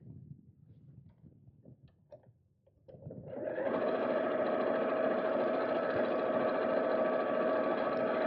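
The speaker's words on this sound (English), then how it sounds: "and just sew in a straight line" A sewing machine stitches a straight seam through lightweight canvas, starting after a few soft handling noises and then running as a steady, close, even mechanical whir to the end.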